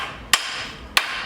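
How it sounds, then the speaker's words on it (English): Two sharp, loud metallic hammer blows on a 1940s vintage car lift, spaced about half a second apart, each standing clearly above a low background hum with no talking. "hit hit that with a hammer?"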